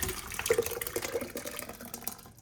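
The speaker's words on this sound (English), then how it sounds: "pour it in the bucket" Wet plaster mix poured from a container into a bucket, a short gloppy splashing pour lasting a couple of seconds, close and fairly loud, tailing off at the end.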